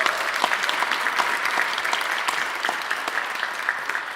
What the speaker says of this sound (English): Can we have a round of applause for great schools?